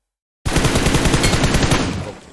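Automatic gunfire in the PUBG Mobile battle game, a loud sustained rapid burst of shots starting abruptly after a short silence and running for about two seconds.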